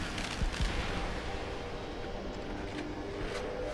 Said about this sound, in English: Who the fuck is shooting at me now?